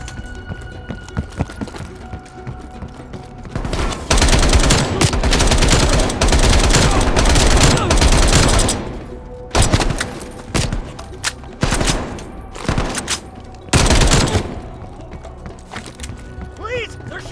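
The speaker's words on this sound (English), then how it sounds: "They're shooting at us!" Enemy gunfire in a Call of Duty: Black Ops Cold War firefight, loud sustained bursts and rapid volleys that swell and break off in repeated waves, with shouting voices mixed in.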